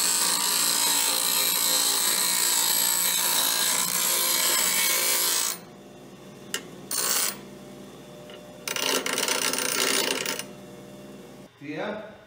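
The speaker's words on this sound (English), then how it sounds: "Angle grinders are life." An angle grinder cuts steel for a shifter extension in a Cummins 4BT-powered bread truck. A loud, continuous hissing whine runs for about five seconds, then breaks into short bursts separated by quiet pauses.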